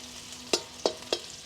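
Onion frying in a small amount of mustard oil in a wok, with three sharp, close scrapes of a spatula stirring over a soft, steady sizzle.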